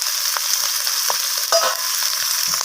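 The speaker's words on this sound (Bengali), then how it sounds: "পেঁয়াজ কলিটা দিয়ে আমি ফোড়নের সাথে এইভাবে নাড়াচাড়া করে ভাজা করে নিচ্ছি" Onion shoots stir-fried with tempering spices in hot oil, a steady bright sizzle with a few soft spatula scrapes close by, no voices.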